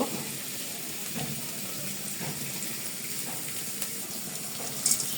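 Quiet, steady sizzling of sliced onion frying in hot oil in a pan, a soft crackling hiss with a few small pops near the end.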